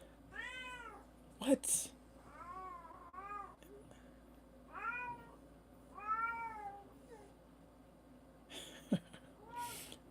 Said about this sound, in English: Cats, man. Cat.